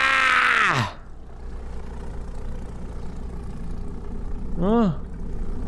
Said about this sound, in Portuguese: Um avião!